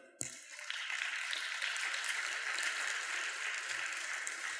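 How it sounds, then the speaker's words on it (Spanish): A congregation at a church service breaks into applause after a brief thump, the clapping rising quickly and holding steady as a full, moderately loud wash of hands. "Aleluya, un fuerte aplauso."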